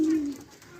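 A single pigeon gives a soft, brief coo close by as racing pigeons return from a release, faint and alone.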